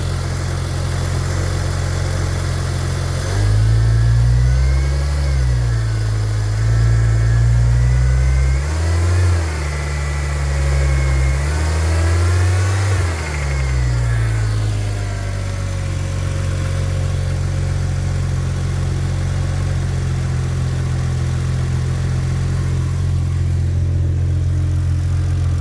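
A 2002 Porsche Boxster S engine idles on a cold start and is revved by hand several times, loud rising and falling blips over a steady idle before it settles back, with no talk.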